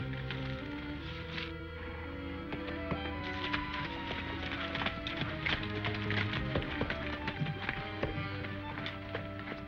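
Horse hooves clip-clop steadily over a dense, busy background of music-like tones, the hoofbeats fairly close and repeating in an uneven rhythm.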